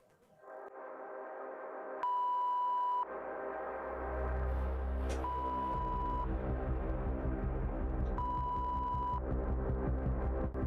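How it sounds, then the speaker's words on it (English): Three steady, pure-toned beeps sound several seconds apart over a low droning hum, each lasting about a second. "Three beeps."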